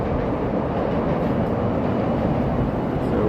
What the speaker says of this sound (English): There's the train heading across there.